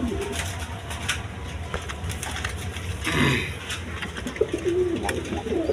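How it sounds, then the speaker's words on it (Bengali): Close, low cooing from a Giribaz high-flying pigeon comes in short rolling phrases, with a brief rustle of movement midway and a faint background hum throughout. "গিরিবাস কবুতর, হাই ফ্লাইং কবুতর দেখেন"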